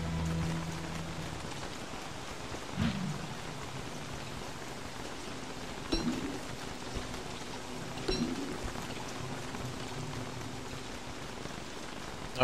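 Steady rain falling in a video game, a continuous soft hiss of drops on the ground with a few faint thuds, heard alone with no talk.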